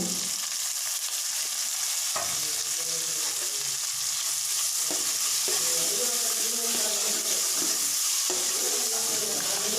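Tomatoes fry in a pan for butter chicken with a steady, close sizzle, broken by periodic scraping stir strokes and a faint clatter of utensils.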